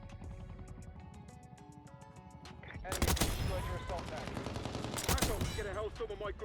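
Kilo 141 assault rifle fire in Black Ops 6: loud, rapid automatic bursts crackle in quick succession, with a sharp, heavier burst near the end.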